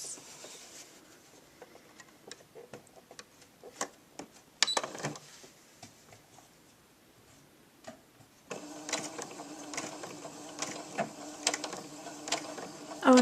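A sewing machine stitching a quarter-inch seam on a tank top, its soft mechanical whirring and ticks quiet at first, then a steadier, louder run of stitching near the end.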